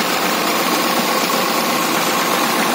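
A Massey Ferguson MF 240 tractor engine idles during sesame harvesting, a steady, even, broadband rumble held close and loud without a break for under three seconds.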